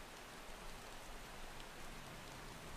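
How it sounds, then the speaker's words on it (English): Steady rain falls in the video game Far Cry 2, a dense, even hiss of drops that is constant, soft and without pauses. "Rain!"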